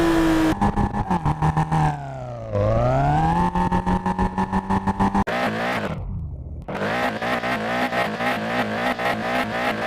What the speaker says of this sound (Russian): Сегодня сравним выхлоп Априора.